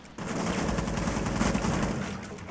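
Rapid gunfire in Rainbow Six Siege rattles continuously for a couple of seconds, dense and fairly loud, with no voices over it.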